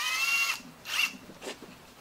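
An electric power wrench snugs down bolts on a Holley oil pan for an LT swap, whirring in three short close bursts that each get briefer, with no talking.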